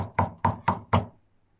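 Four evenly spaced knocks on a door, close and sharp, followed by silence.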